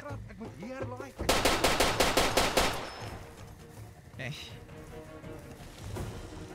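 Rapid bursts of automatic gunfire from Far Cry 2 rattle loudly for about a second and a half, then give way to scattered shots, rustling and game ambience, with a voice briefly audible early on.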